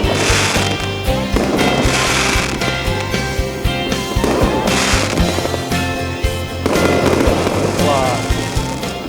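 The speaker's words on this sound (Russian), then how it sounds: "И вот в нашу честь еще и салют." A New Year fireworks salute bursts over the Yalta embankment in Crimea, with repeated popping and crackling explosions at irregular intervals, some distant booms and a few clustered crackles, while people talk nearby.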